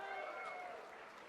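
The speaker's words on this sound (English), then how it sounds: "give this CLG a round of applause again for taking that first game of the day" A crowd at an esports League of Legends tournament claps in steady applause for about a second, fairly faint and distant, with no talking over it.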